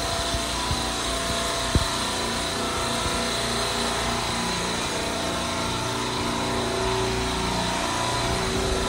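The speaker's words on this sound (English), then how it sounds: "I like to make sure my compressor's running." Grocery store refrigeration compressor rack running on R22 in a motor room, producing a loud, steady mechanical drone and hum with a single sharp knock near the start.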